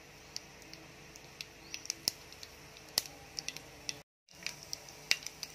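Mustard seeds popping in hot oil in a home kitchen, tempering for a drumstick and lentil curry: scattered sharp little crackles and pops at an irregular rhythm, close and fairly quiet, with no talk.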